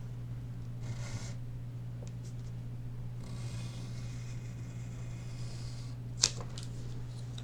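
Soft scratching of a pencil sketching a puppy puppet's tongue on paper, in a few short close strokes with pauses between them and a sharp tap near the end, over a low background hum.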